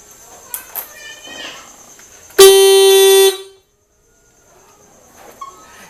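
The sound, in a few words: motorcycle horn alarm sounding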